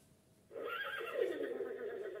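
An electronic horse neigh from the Qui l'a vue board game sounds once as a sustained, bright whinny after a brief quiet moment. It is fairly faint, with no speech.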